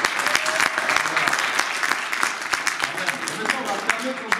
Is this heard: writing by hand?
no